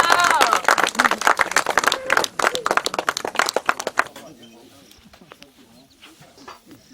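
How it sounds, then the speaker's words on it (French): A crowd at an event about education for refugee children in Bunia, Ituri, claps loudly in a dense burst that breaks off after about four seconds, leaving scattered voices and background chatter. "Applaudissons très fort."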